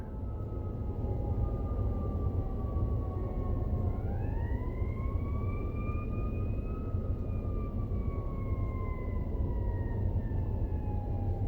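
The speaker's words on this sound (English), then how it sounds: "And you hear the ambulances" Ambulance sirens wail steadily over a snowstorm in downtown Chicago, a long continuous tone that dips and then rises into a slow sweeping wail, moderately distant above a constant low rumble of traffic and wind.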